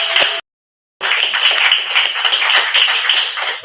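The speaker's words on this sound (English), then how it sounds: "So let's do a round of applause for y'all." Hands clap at an open mic night, a bright, close burst that cuts out briefly to silence, then resumes as sustained clapping from a modest group.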